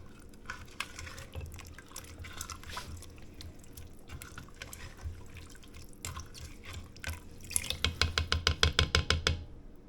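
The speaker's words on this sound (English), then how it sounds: "And I'm going to then stir this all up." Pork shoulder stew stirred in a pot, with quiet wet sloshing and clinks that give way to a quick run of rhythmic scraping strokes near the end.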